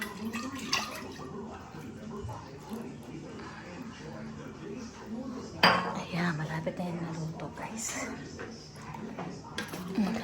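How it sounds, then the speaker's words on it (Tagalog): Lechon paksiw is stirred gently in a metal pot, with soft scraping and clinks of the utensil against the pot and a wet, saucy churn, moderately close while a person talks over it. "halo-halo lang. Pero dahan-dahan lang guys. Kasi baka madurog."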